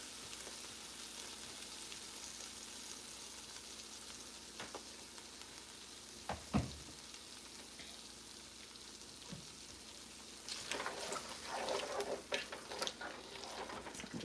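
Turkey taco meat simmering in Capital City sauce sizzles steadily in a hot pan, a soft continuous crackle with a few clanks of stirring and a busier burst of frying near the end.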